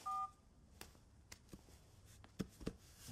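A telephone keypad sounds one short, clear touch-tone beep at the start, followed by faint scattered clicks and taps in a quiet indoor film scene.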